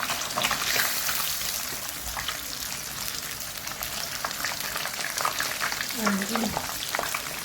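Fish frying in hot oil gives a steady, dense sizzle and crackle throughout, close and fairly loud, with no talking.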